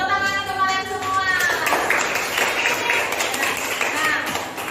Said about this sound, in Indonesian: Yuk, beri tepuk tangan untuk kalian semua